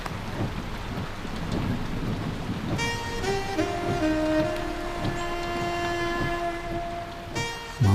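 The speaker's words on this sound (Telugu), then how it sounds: "వర్షం భయంకరంగా పడుతుంది" Heavy rain pours with a dense low rumble, and a tonal musical passage rises over the downpour after a few seconds. No one speaks.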